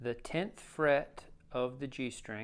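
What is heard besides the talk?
No everyday noise stands out behind the speech.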